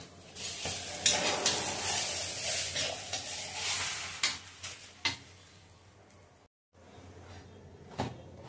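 Bajra bhakri millet flatbread cooking on a hot tava griddle, a steady close sizzle with stirring and scraping noises and a few sharp clicks, dropping briefly to near silence before a softer hiss resumes.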